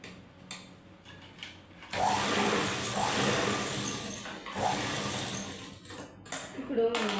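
A sewing machine stitches the front part of a blouse in a loud, rapid whirring burst that pauses and restarts, while someone talks over it.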